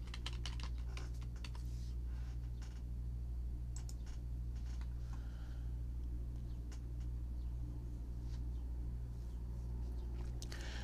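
Rapid keystrokes on a computer keyboard as a WiFi password is entered, close and fairly soft over a steady low hum, with clusters of clicks in the first few seconds and sparser taps later.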